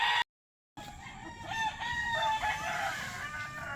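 A fighting rooster crows in a rural province setting, a loud strained call rising after a brief dropout, with other fowl faintly clucking around it.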